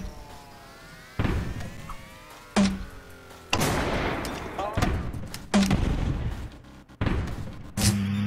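A grenade launcher fires in the Screencheat game, giving about six heavy thumping blasts at uneven intervals. Each blast is loud and close with a decaying tail, and whooshing streaks and faint game effects run between them.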